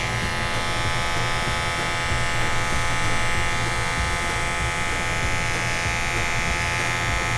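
An electric trimmer buzzes steadily up close as it cuts a man's bushy hair shorter, a constant loud hum with no talk.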